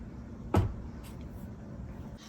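A drawer in a bedroom art studio desk slides with a single short, sharp scrape and thud, followed by faint light rattles and quiet room tone.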